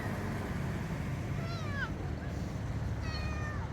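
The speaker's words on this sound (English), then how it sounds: "we're going to hear a meow meow any minute" Rescue cat meowing at night, two drawn-out mewing calls, the second one softer, over a steady low background hum. A person speaks quietly nearby.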